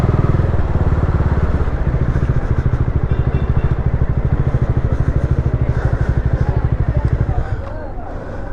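Many motorcycles idle together at a bike stunt event venue at a highway inn, a dense, loud, throbbing engine rumble with a steady pulse, crowd chatter mixed underneath.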